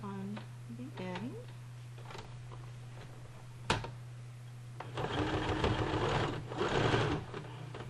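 A sewing machine stitches elastic on a cloth diaper, its close whirring run rising in the latter half over a steady hum, after a stretch of quieter handling where a voice is briefly heard.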